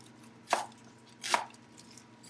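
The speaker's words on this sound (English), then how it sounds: "I'm going to just kind of rough chop it" Two quiet, crisp knife strikes against a cutting board as a leftover piece of onion is roughly chopped, spaced almost a second apart with soft room noise between them.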